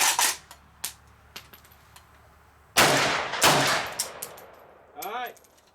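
The last two rounds are fired at a gun range as a pair of sharp, close gunshots in quick succession, with lighter metallic clicks and clinks of handling before and after.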